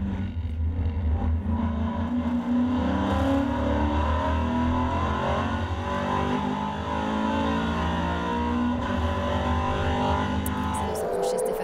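Maserati Trofeo race cars battle for position at the Red Bull Ring, loud engine roar building and shifting pitch as cars pass close, with a commentator talking over it.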